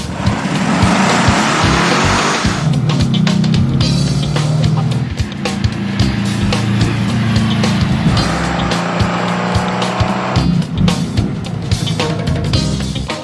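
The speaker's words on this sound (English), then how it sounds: "Alex just made a pretty impressive pass for a Volkswagen Beetle with a mystery motor in it." A Volkswagen Beetle fitted with a mystery motor makes a drag race pass, its engine roaring loud and close and rising through gears in a sustained, rough drone with shifts and crowd noise around it.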